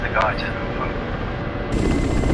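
A Ka-50 Black Shark coaxial attack helicopter flies in the DCS combat flight simulator, producing a steady loud rotor and engine drone that swells near the end, with someone talking over it.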